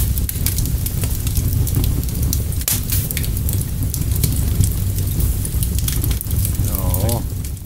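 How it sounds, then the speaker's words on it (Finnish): A large fireplace in a video game crackles and hisses steadily, a dense, rain-like texture of pops and snaps running throughout, with a brief voice near the end. "Siellä on sitten iso tämmönen takka."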